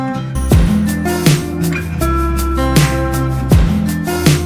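An acoustic guitar with a wide stereo spread, strummed chords ringing out in a steady rhythm with a few sharp attacks, close and full, no voices.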